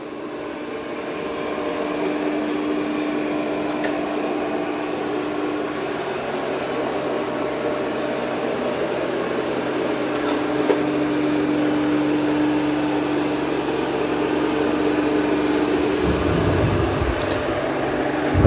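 Yeedi M12 Pro+ robot vacuum and mop running steadily on a floor, a constant mid-level motor whine and brush hum with faint tonal shifts as it passes back and forth, alone without talk.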